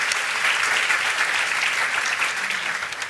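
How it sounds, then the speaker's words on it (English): Luncheon audience at a women's leadership event claps in a sustained, even round of applause, loud and close throughout. "please join me in giving another round of applause"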